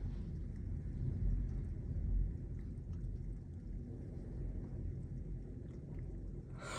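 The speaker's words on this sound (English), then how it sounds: "Oh my God, I saw another massive lightning strike." Thunder rumbles from a nearby strike during a severe thunderstorm with quarter-sized hail and high winds in Lubbock. A deep, continuous roll swells and fades over several seconds with rain noise in the background.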